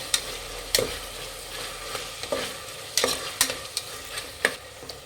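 Tomatoes with turmeric frying in a pan, a soft steady sizzle broken by several sharp scrapes and taps of a spoon stirring against the metal, close and with no talking.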